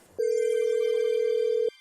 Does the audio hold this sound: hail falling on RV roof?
no